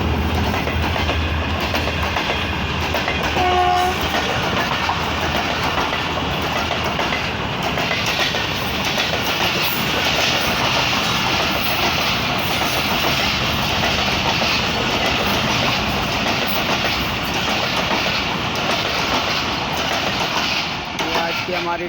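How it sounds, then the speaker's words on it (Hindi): Pak Business Express passenger train led by a ZCU-30 diesel locomotive runs through Drigh Road station without stopping, a loud, steady rumble of rolling wagons with rhythmic clickety-clack from the rails, sustained throughout. "33 अब डिगरोड स्टेशन से थ्रू पास हो रही है।"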